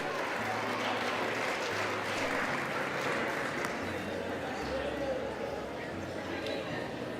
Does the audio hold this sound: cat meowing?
no